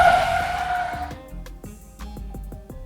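Car driving and skidding in the video game Fast and Furious Crossroads: a loud tire screech fades after about a second, leaving engine drone and a series of sharp game impact or gear sounds.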